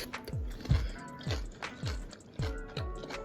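Someone bites into and chews shrimp and crab ceviche, likely with a crisp chip, making close, rhythmic crunches repeating roughly every half second.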